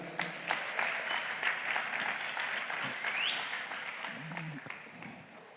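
A church congregation gives a sustained round of applause during a worship service, dense steady clapping filling the room, with faint voices and a brief shout or whistle mixed in.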